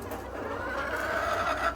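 A white-egg-laying hen clucks steadily in a continuous, close run of throaty calls with faint farmyard background.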